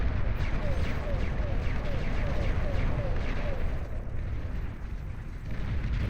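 Artillery barrages in the real-time strategy game Beyond All Reason during an 8v8 deathmatch, a dense continuous roar of repeated booming blasts and bursts, loud and unbroken throughout.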